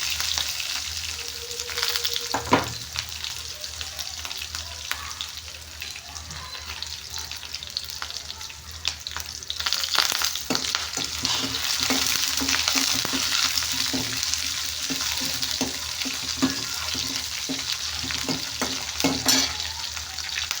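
Sliced onions and fennel seeds, with curry leaves, fry in hot oil in a pan, giving a steady close sizzle broken by repeated scraping clacks of stirring with a spatula.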